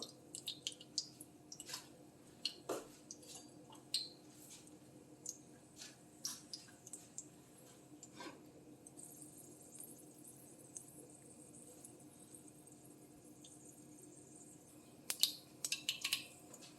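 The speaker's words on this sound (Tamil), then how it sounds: "எண்ணெய் ஊற்றி கடுகு, உளுத்தம்பருப்பு போட்டுக்கிறேன். கத்திரிக்காய் பொரியலுக்கு கடுகு, உளுத்தம்பருப்பு நல்லா பொரியட்டும்" Mustard seeds and urad dal frying in oil in a kadai for brinjal poriyal, a faint low sizzle dotted with scattered small pops and crackles, quiet and close.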